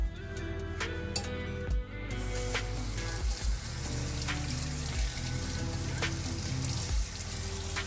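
A kitchen tap runs steadily while a knife is rinsed under the stream, the water a continuous close wash broken by a few brief splashes and clinks.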